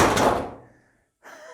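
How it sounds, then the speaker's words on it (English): A chair thrown against an acrylic desk sneeze screen with timber bases lands in a single loud hollow crash that quickly dies away, followed after a short silence by a faint rattle. "Let's see what happens when we chuck a chair at it."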